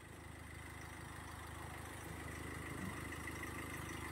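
A car's engine idles steadily to power the household as a generator during a neighbourhood blackout, a faint, even low hum with no change in pitch.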